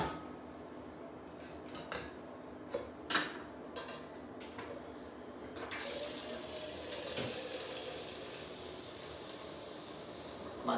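Hot water runs steadily from a tap, a continuous rushing splash with a few faint clinks of dishes early on and no talk.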